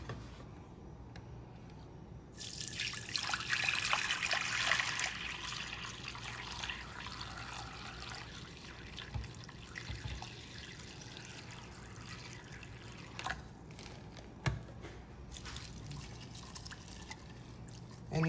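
Filtered water poured into a bowl of raw Irish sea moss, a rushing pour for a few seconds, followed by quieter trickles, drips and small splashes.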